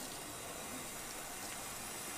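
Running water pours steadily as hands and arms are rinsed from fingertips to elbows during a surgical scrub, a continuous broadband hiss held at an even level throughout with no talking.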